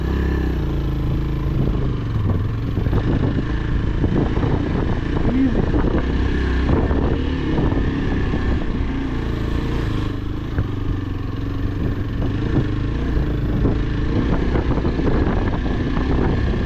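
A 2024 Yezdi Adventure motorcycle carrying a pillion over rough off-road ground, its engine droning steadily and loud throughout with clattering over bumps and a rider's voice heard at times.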